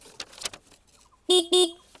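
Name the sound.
scooter horn being sounded, Hero Xoom 160 or TVS Ntorq 150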